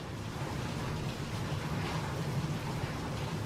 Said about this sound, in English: It's really raining pretty bad outside right now